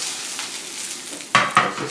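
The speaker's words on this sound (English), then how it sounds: "So it's just going to be a very, very fast saute" A vegetarian cod substitute sizzles briefly in a hot pan during a quick saute, a soft hiss followed by two sharp bursts of frying as the pieces are stirred, close and alone.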